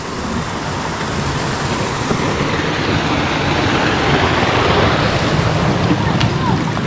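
Mountain spring water flowing down from above near Turtuk village in Ladakh, a steady broadband rush with wind noise on the microphone, constant and close throughout.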